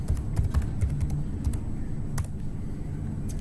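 Steady, rapid typing on a computer keyboard, close and clear, with irregular key clicks continuing throughout and no talking.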